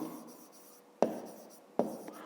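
Handwriting numbers during a fifth-grade math lesson: a quiet background hiss, then two sharp pen taps about a second apart, each fading quickly.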